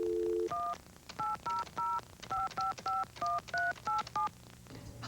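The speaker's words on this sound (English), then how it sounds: "You just dial this toll-free number." Touch-tone keypad dialing a toll-free number: a quick sequence of about eleven short, evenly spaced dual-tone beeps, clear and fairly loud, over a faint background hum with no talking.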